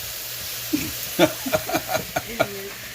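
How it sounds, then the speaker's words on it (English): Meat for a spaghetti dinner fries in a pan with a low, steady sizzle, while a voice talks over it in short bursts. "Start cooking that meat."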